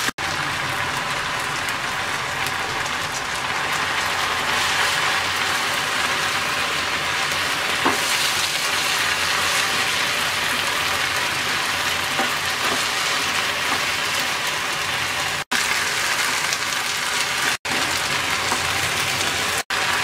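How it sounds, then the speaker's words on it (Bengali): Jute leaves are stir-fried over high heat in a pan, making a continuous loud sizzle and crackle, like rain, through the whole stretch, broken only by brief gaps near the end. "চুলার আঁচ বাড়িয়ে দিয়ে এভাবে নাড়তে হবে আর ভাজতে হবে যাতে দলা পেকে না যায়।"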